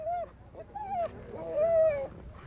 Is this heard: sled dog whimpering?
yes